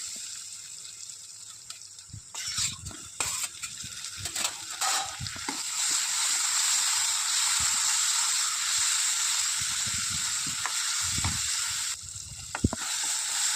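Chopped tomatoes hit golden frying onions in a pan, giving sporadic clattering stirs and bursts of sizzle before a steady loud hiss settles in.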